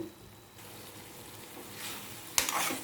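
Prawns fry in oil with a faint steady sizzle that swells near the end into a louder crackling burst.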